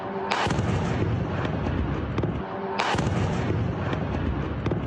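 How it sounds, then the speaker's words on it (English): Two powerful blasts from a drone strike in Rostov, each a sudden loud broadband burst followed by a long rumbling, crackling roll that fills the whole stretch, the second arriving a few seconds after the first. "A series of explosions in Rostov."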